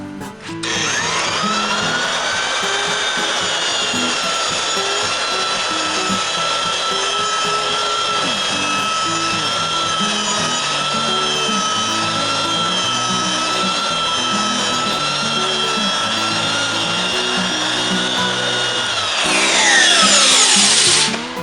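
A B2 floor edger sanding a wooden floor runs with a loud, steady whine and grinding hum at close range that barely varies, then rises briefly near the end.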